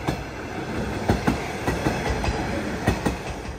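A KiHa 110 series diesel train rolls steadily past with rhythmic wheel clatter over rail joints, a continuous rumbling drone punctuated by periodic clacks, moderately loud and close.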